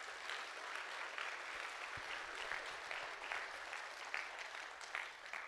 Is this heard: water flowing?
no